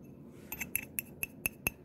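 A gold-coloured glass candle holder cup clinks sharply as it is handled, giving six or seven bright, close taps spaced at an even pace over a quiet background.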